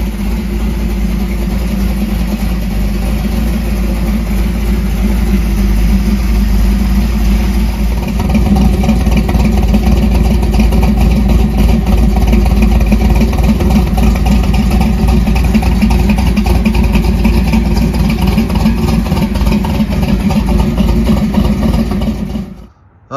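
A 1968 Dodge Dart's solid-roller V8 idles outside in winter, a loud, steady lumpy rumble with mechanical clatter that swells slightly partway through, then cuts off abruptly at the end.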